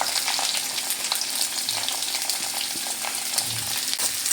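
Chopped onions and green chilies fry in hot oil, a dense, continuous sizzle heard up close and alone, with faint stirring beneath.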